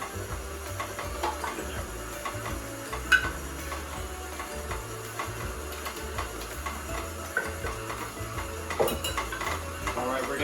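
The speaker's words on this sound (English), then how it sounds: "So I'm mixing my dry ingredients into my wet ingredients." Dry ingredients being mixed into wet ones for sugar cookie dough, heard as quiet, steady rhythmic clinking and scraping of a utensil against a bowl with faint background hum.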